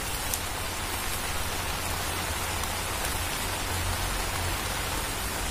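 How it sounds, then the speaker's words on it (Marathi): Heavy rain falls steadily in the Konkan countryside near Poladpur, Raigad, a dense continuous patter and hiss close by with a few louder drops and no talking. "पाऊस बघा तर खूप असं मोठं झालंय"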